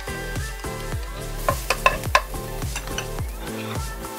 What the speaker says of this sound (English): Sauté until onions are tender, about 3 minutes.